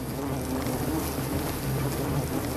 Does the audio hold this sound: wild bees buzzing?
yes